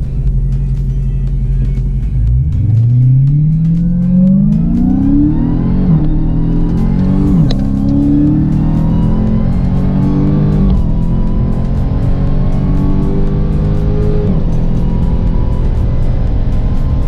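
A Dodge Challenger Hellcat Redeye accelerates hard during a high-speed run, its loud supercharged engine climbing steadily in pitch through successive gear changes, heard close and continuous with no talking.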